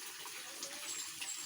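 Water runs steadily from a tap or hose for bathing a goat, a continuous hissing splash with no break, close and fairly loud on its own.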